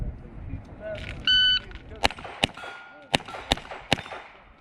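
A shot timer gives a short electronic start beep at a Steel Challenge rimfire match with AR-22 rifles, followed by a quick string of sharp rifle shots and steel-plate clangs ringing out in an irregular rhythm.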